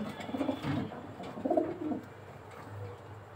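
A male racing homer pigeon held in the hand coos softly at night, two low throaty coos close by over quiet background, with no talking.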